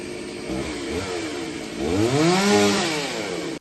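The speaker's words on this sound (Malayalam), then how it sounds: "ഫയർഫോഴ്സാണ് വീടിന് മുകളിൽ വീണ മരം മുറിച്ചു നീക്കിയത്" Firefighters run a chainsaw to cut a tree that fell onto a house in heavy rain; the engine drones steadily, then revs up sharply and holds at a higher pitch nearby.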